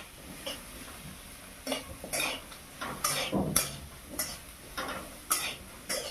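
Fried potatoes with turmeric being stirred in a pan, a series of close, irregular scraping and clinking utensil strokes against the metal over a faint sizzle, with no talking.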